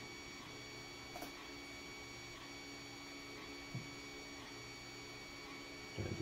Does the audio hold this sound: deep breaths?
no